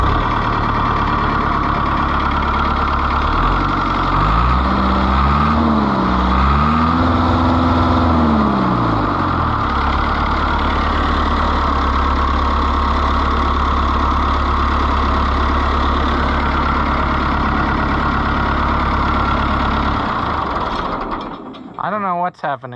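A diesel engine idles steadily and loudly after a CAV injection pump top gasket and seal replacement, running at a fast, even idle for about twenty seconds before cutting off abruptly.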